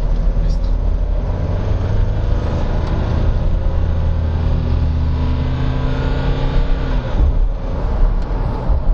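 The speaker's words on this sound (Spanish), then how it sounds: "Y lo que voy a hacer es una pequeña prueba de frenada para poder pues medir las capacidades" A Nissan NP300 Frontier pickup truck during a braking test, heard from inside as a steady, close engine and road rumble that holds throughout with a slight shift near the end.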